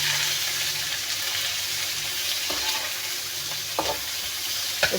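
Onions sizzling in a pan with curry leaves, a steady close frying hiss with a few sharp clinks of a spoon against the pan near the end.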